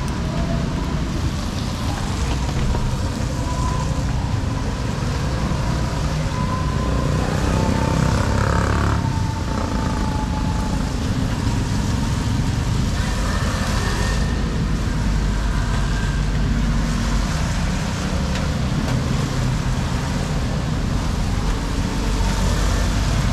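Motorcycle ride in rainy, flooded conditions, a continuous low engine drone mixed with steady rain and road wash, loud and close throughout with no speech.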